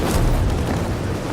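An explosion in the video game Battlefield V is a brief, loud, low rumbling blast that fills the short moment with heavy booming noise.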